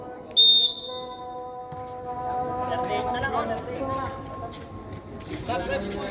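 A sharp referee whistle blast at an amateur league basketball game, followed by ball bounces, crowd chatter and a commentator talking over the court noise.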